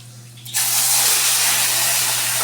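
A kitchen tap left open starts abruptly after a brief pause, then water pours in a loud, steady hiss without letting up.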